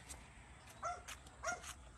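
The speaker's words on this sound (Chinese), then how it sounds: "狗狗，" A dog gives a few soft, short yips and whimpering barks at a distance in an outdoor vegetable garden, faint over low background noise.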